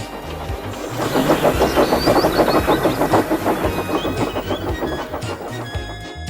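A small toy train clatters along the tracks with a rhythmic rumble that builds and then fades, with faint squeaks and whistle-like tones.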